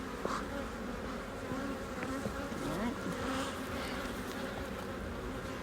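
Steady, close buzzing of many honeybees around a hive frame fills the whole stretch, a dense droning hum with a brief spoken word near the start.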